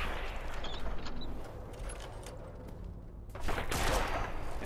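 Gunfire cracks out in the Fallout video game during a headshot, a loud rolling burst of shots over a steady rumbling background, with a sharper blast in the final second.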